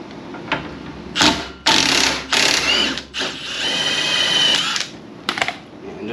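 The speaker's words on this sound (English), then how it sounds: "and just like that, my strut is unbolted" A power tool unbolts the strut on a Mazda Miata ND during a lowering-spring install, with close, loud bursts of whirring and rattling separated by short pauses.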